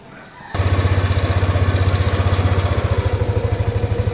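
A Yamaha Aerox 2021 scooter engine starts and settles into a steady, pulsing idle, close and alone.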